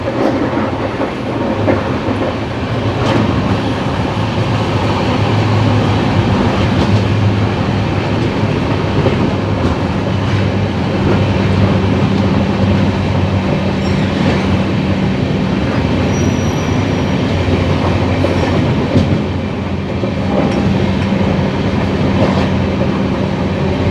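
The 18046 East Coast Express between Hyderabad and Shalimar runs steadily, heard from outside the coach: a loud, continuous rumble with rhythmic clickety-clack and occasional wheel squeal, no voices.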